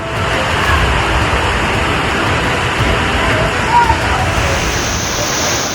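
Torrential monsoon floodwater rushes past in a loud, continuous roar that stays steady and close throughout, with dense churning turbulence and no breaks or distinct splashes.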